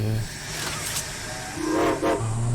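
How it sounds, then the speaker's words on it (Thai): Train pulling out of the station in the video game Poppy Playtime Chapter 2, with steady hissing steam and rumble under a couple of rising whistle blasts, loud and close. "รถไฟออกแล้วทุกคน"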